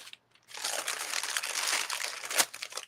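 Heat-treated parchment paper crinkles and crunches steadily for about two and a half seconds, close-up and continuous, with a sharper crackle near the end and no voices.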